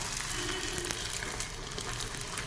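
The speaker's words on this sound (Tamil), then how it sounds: "பொரிஞ்சு ஓசை அடங்கினோன்னா நம்ம நெக்ஸ்ட் சைடு திருப்பி போட்டுக்கலாம்" A rice poori made with coconut frying in oil, a dense even hiss of bubbling oil that holds steady throughout, close by and without voices.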